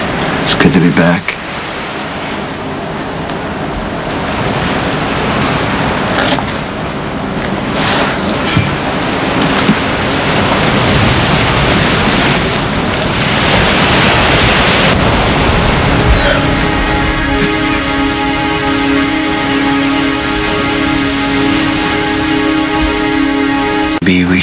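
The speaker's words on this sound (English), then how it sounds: "You hear that? The waves." Ocean waves and wind on a Hawaii shoreline, a steady loud roar of surf and gusting air that swells and falls, with a faint tonal hum joining partway through.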